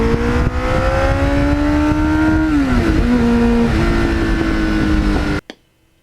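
A Kawasaki Ninja GPX750R motorcycle with 38,000 miles is ridden on an open road. The engine drones loud and close, its tone sagging as it shifts or eases off, then steadying, before cutting abruptly to near quiet.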